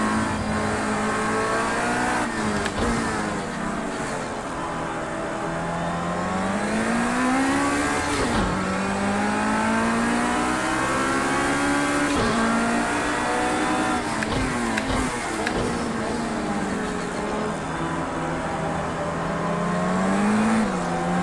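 A race car in Project Cars 2 howls under hard throttle, its engine note sweeping up and down through the gears in a steady, loud, continuous drone with no talking over it.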